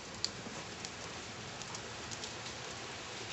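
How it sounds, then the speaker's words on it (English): Rain falls outdoors in a fine, continuous patter, steady and fairly faint, with a few sharper drops and no voices. "Uh-oh, it's raining faster."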